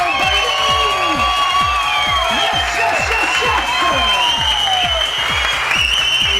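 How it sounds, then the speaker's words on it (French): A large crowd at a July 14, 2011 television show applauds steadily with cheers, whoops and shouts rising over the clapping, loud and continuous throughout. "ça criait, ça applaudissait"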